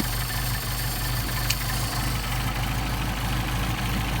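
A cold Mercedes 190SL engine idles on Solex carburetors, a steady low rumble with an even pulsing beat, close and continuous throughout with no talk.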